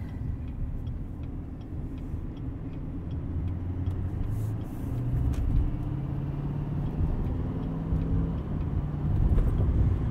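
A 2020 Chevy Silverado 2500 heavy-duty pickup with the Duramax diesel engine drives steadily, a deep continuous low rumble of engine and road noise from inside the cab, with no talking.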